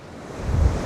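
Wind gusting and surf breaking on a rainy Blackpool/Fleetwood beach, a brief burst of broadband roar swelling louder toward the end, with wind buffeting the microphone.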